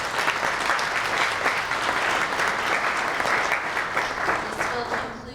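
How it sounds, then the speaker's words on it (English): A luncheon audience claps for the event's sponsors, a sustained, dense round of applause from a large crowd, steady and loud before tapering off at the end. "Please give those sponsors a round of applause."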